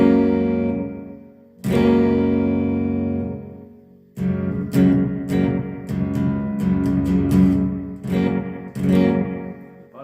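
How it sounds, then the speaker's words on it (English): Electric guitar played through dual delay, FDR and light reverb with a little gain, sustained ringing chords followed by plucked notes and strums, each trailing repeating echoes and a reverberant wash, loud and alone. "now we just got the delays and the FDR. A little bit of reverb, a little bit of gain."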